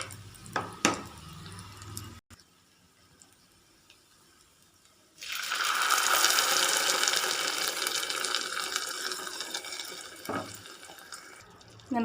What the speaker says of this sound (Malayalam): നമുക്ക് ഗ്രേവിക്ക് ആവശ്യമായ വെള്ളം നോക്കിയിട്ട് ചേർത്ത് കൊടുക്കണം